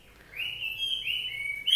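A red-whiskered bulbul or hwamei sings at home in a clear, close, continuous run of bright whistled notes, rising then holding steady, with a sharper burst at the end.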